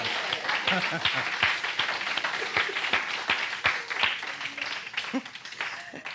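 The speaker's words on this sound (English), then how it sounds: "Wow, can we give them another round of applause?" Applause at a Sunday church celebration, with lively, uneven clapping close by and distinct individual claps standing out, plus faint voices and cheers mixed in.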